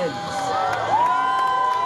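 At a fairground BMX bicycle stunt show with ramp and flatland riding, a crowd cheers and shouts in a continuous, lively wash, with a sustained, pitch-bending whistle or voice riding over it.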